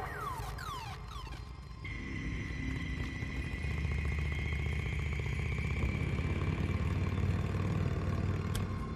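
A motorcycle engine idles steadily in the video game Days Gone, a low continuous rumble that swells slightly and holds close, with a brief sweeping tone at the start and no talk.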